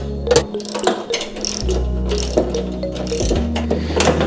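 Ratcheting clicks and mechanical turning as bolts are tightened with a 10 millimeter wrench while assembling a Briggs and Stratton snow blower, with a steady low hum underneath and close, repeated bursts of clicking.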